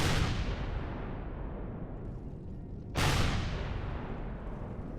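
Gunfire and explosions erupt in the space game Empyrion, two heavy booming blasts about three seconds apart, each followed by a long, rumbling, decaying roar.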